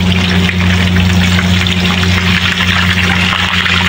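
Fish frying in hot oil gives a steady, close sizzle with a constant low hum underneath, loud and unbroken throughout.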